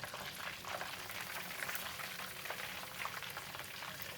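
Butterflied tilapia deep-frying in hot oil, a dense, even bubbling hiss that holds steady and fairly faint for a few seconds, with no voices.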